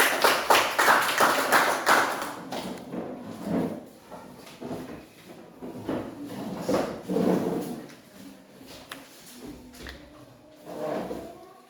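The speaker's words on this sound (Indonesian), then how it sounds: "kita berikan aplaus kepada kelompok" Students clap for a group in a classroom, starting with a loud burst of scattered applause that thins out into uneven bursts of claps and knocks, with occasional voices in the room.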